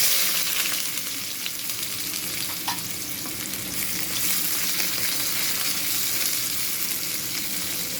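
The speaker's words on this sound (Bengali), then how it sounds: "এখন আমি দিয়ে দিব এই পেঁয়াজ কুচিগুলো।" Chopped onions fry in hot oil with black cumin seeds in the pan, giving a constant dense sizzle close up. Faint stirring scrapes come through the crackle, with no voices.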